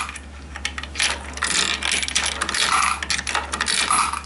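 Coins clatter through a six-coin acceptor mechanism, a steady stream of close metallic clinks, rattles and ratcheting clicks over a constant low mechanical hum.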